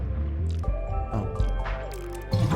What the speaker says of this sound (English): that's to pump water out